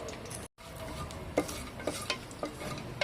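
Cloves, cinnamon, star anise and bay leaf lightly frying in oil, a soft continuous sizzle broken by a brief dropout, with intermittent scrapes and taps of a spoon against the pan.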